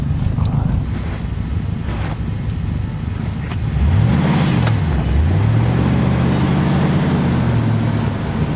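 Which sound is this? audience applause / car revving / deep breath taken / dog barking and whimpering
car revving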